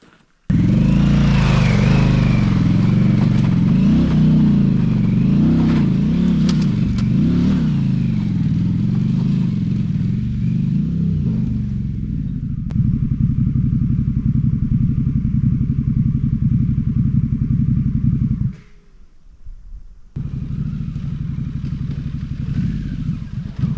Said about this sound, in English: So I reckon I can get the bike up that as well as down it.